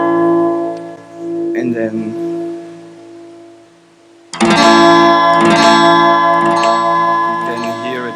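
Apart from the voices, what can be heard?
guitar sound with a delay effect from the Web Audio API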